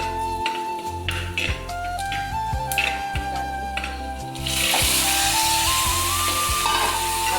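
Milk chicken curry stirred in a pan, with steady frying sizzle and intermittent scraping and stirring knocks, the sizzle swelling louder and denser in the second half.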